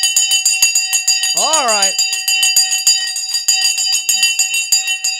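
Crypto trading bell rung at market open, a rapid metallic clanging that repeats steadily throughout, bright and close, while someone talks briefly over it.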